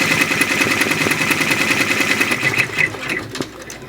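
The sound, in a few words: Brother PR655 embroidery machine stitching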